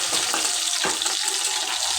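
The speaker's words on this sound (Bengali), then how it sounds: "দিয়ে এটা ভেজে নিব।" Onion and bay leaves frying in a pan give a steady, close hiss of sizzling oil throughout.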